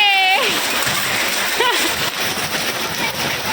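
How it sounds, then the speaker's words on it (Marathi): Hailstones pelt down in the season's first hailstorm, a dense, steady patter of impacts close by that runs unbroken throughout, with a brief voice sounding over it. "मी म्हणले ना गारा परत पडते"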